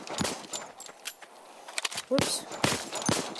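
Gunfire in the virtual-reality zombie game Arizona Sunshine: several sharp, loud shots ring out at irregular intervals, mixed with footsteps and brief bits of casual talk between players.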